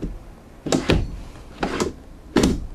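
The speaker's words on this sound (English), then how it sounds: "Nice roller guide drawers here." A roller guide drawer in a Class C motor home slides open and shut three times, each a short rolling whoosh ending in a soft thunk, in a quiet room.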